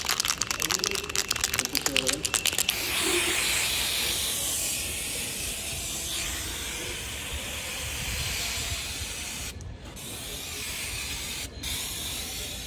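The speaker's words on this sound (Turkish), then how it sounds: "Sprey boyayla bunlara çeki düzen vereceğim. Zaten Glasurit'in sprey astarını aldım bunun için." Glasurit aerosol spray primer hisses steadily from a can for several seconds, a broad close-up spray noise continuing after some brief clattering handling at the start, with no talking.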